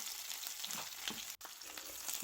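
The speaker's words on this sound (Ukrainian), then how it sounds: "обсмажуємо до м'якості рідчасту подрібнену цибульку" Finely chopped onion fries in a pan, giving a soft, fairly faint steady sizzle with light stirring scrapes and one brief click near the middle.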